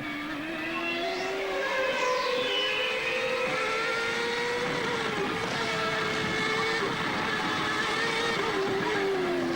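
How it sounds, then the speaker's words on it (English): A 1994 Formula 1 race car on a qualifying lap at the Australian Grand Prix, its high-revving engine screaming loudly and continuously, with pitch rising and falling through gear changes and a brief upward sweep early on. "Michael Schumacher on his way to the 2nd intermediate point"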